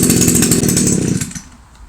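A small garden machine engine with a pull cord and choke roars briefly at full buzz, loud and close, then cuts out and fades within about a second and a half, with no talking.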